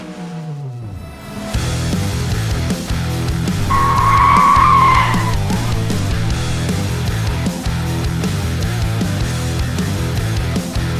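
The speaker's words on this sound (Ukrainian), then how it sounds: "давайте подивимося, як там Рома буде їхати" A race car skids on a circuit, a sustained engine drone overlaid with a sharp tyre squeal in the middle that fades back into steady engine noise, loud and close.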